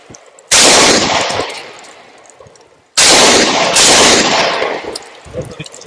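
Canik Elite S pistol fired at a target on a shooting range, several sharp, loud, close shots in two quick clusters, each followed by a booming echo that fades slowly.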